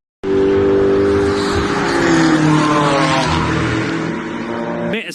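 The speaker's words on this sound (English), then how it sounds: "As the 34 BMW powers its way through Tiergarten and Hohenrhein, again on the ragged edge of adhesion, it's David Pittard charging hard and coming" A BMW race car at the Nurburgring during a VLN race, its engine roaring loud and close as it powers through corners on the edge of grip, with pitch sweeps from shifting and a brief tire squeal.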